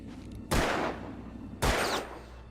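Two loud gunshots in the video game Alan Wake ring out about a second apart at tin cans, each a sharp close blast followed by a short echoing tail.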